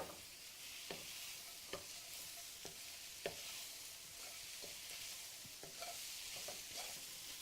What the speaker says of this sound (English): This tends to cook well on a high heat, but you got to keep at it. Keep stirring it.